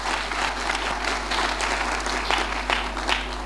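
A church congregation claps steadily through a testimony service celebrating a healed child, with dense, continuous applause over a constant low electrical hum.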